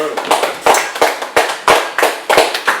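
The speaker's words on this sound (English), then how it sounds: "You guys actually clap for an interview." A few people clap by hand during a podcast interview, giving a rapid, loud, evenly spaced run of about eight sharp claps close to the microphone.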